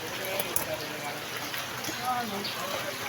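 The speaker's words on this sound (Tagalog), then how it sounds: "Ulan pa lang yan." Steady rain patters and hisses across the whole stretch during flooding, a dense wash of drops with no clear voices on top.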